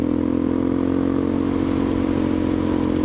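A dirt bike engine runs steadily while riding through deep snow, a constant loud buzzing drone with no gear changes, close and alone with no talk.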